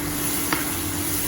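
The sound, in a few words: cumin and green chili tempering sizzling in oil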